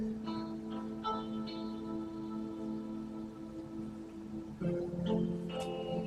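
An MP3 backing track plays through a Line 6 Helix, a steady, faint music bed with sustained low tones and a noisy hiss underneath, heard alone without talking.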